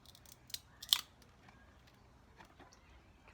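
A cutting tool snips the corners off small vitreous glass mosaic tiles, giving a couple of sharp, close clicks and snaps in an otherwise quiet room, with faint handling ticks between cuts.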